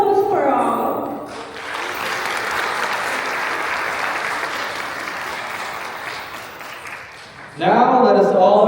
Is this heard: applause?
yes